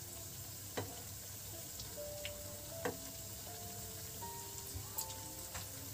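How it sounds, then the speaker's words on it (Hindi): Rasbhari sweets frying in hot oil, a soft continuous sizzle with scattered pops and crackles, fairly quiet and close, no talk. "रसभरी फ्राई हो जाए तब हम इसको दूसरी तरफ भी टर्न कर देंगे और इसे भी अच्छे से फ्राई होने देंगे"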